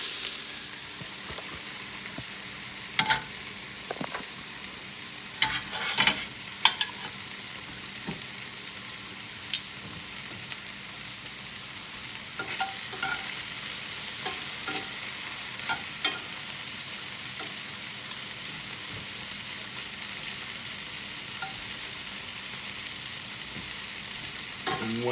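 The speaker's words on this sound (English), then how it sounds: "that'll go in with the onions that are sauteing behind you" Onions sauté in a hot pan for pork browning, a steady hissing sizzle throughout with occasional sharper crackles and clinks of stirring, close and continuous with no talking.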